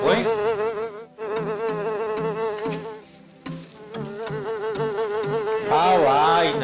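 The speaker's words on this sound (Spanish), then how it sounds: "pero qué peo con esa puta mosca, pues" A housefly buzzes loudly and close by for several seconds, its pitch wavering as it circles, with one brief dip partway through before the drone swells again near the end.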